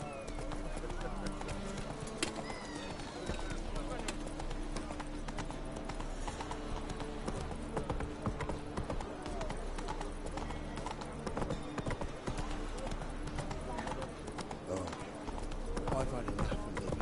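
Roach the horse gallops in The Witcher 3, a steady rapid clip-clop of hooves running under continuous game music and ambience, with someone speaking over it.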